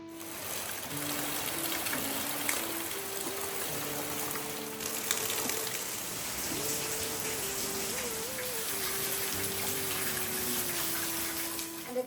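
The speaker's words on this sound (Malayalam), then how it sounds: "ഗംഭീര മഴ" Heavy rain pours down in a dense, steady wash of noise that keeps going throughout, with a faint tonal hum running underneath.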